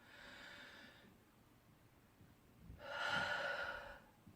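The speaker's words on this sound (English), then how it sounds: "We're going to take a deep breath." Two breaths sound close and quiet in a calm room, a shorter inhale first and then a deeper, fuller one about two seconds later, with no talking.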